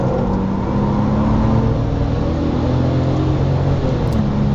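A 2007 Porsche 997 Turbo accelerates hard on the Nürburgring Nordschleife, its engine a loud, steady in-car roar that holds for several seconds without pause.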